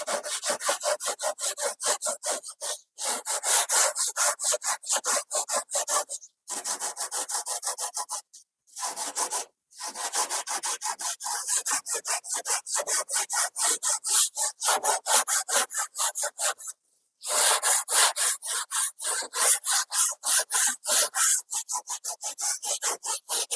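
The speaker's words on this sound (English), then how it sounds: "I can actually do one layer sanding using very light hand, using this a mild sandpaper" Mild sandpaper rasps by hand over a gesso-coated painting surface in quick, steady, rhythmic strokes, close and fairly loud, with a few brief pauses between passes.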